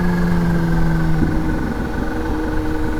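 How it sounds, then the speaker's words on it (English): A Kawasaki Z H2 motorcycle engine with the throttle feathered during a wheelie, a loud close mechanical drone holding a steady pitch that shifts slightly midway, no voices. "I've got to get used to feathering that throttle a little bit more when I'm picking up that front wheel"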